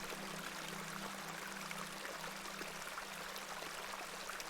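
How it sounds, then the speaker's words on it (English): A small stream, a beck, flowing in the game The Excavation of Hob's Barrow: a steady, close trickling and pouring of water with a low hum beneath, no voices. "This is a lovely little beck."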